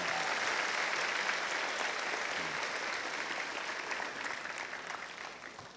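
Students at a Jepara high school applaud steadily as a dense, sustained round of clapping that holds loud for several seconds, then begins to thin and fade toward the end.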